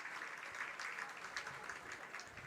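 Fans applauding an injured soccer player as she is helped up at Yurcak Field during a Sky Blue FC vs. Seattle Reign FC match, a faint, steady distant patter of stadium clapping throughout.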